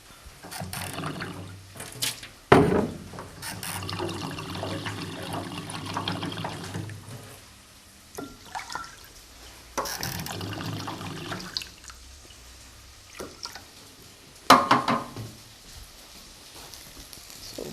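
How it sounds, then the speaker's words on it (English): Water pours into a cooking pot for pumpkin soup in a home kitchen, coming in several separate splashy bursts with quiet gaps, close and fairly soft. "Pop the water in there."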